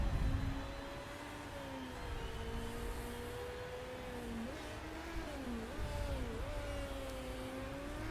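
Race cars drive out on track in the Motorsport Manager video game, giving a quiet, steady engine drone whose pitch slides and shifts as the cars accelerate and ease off.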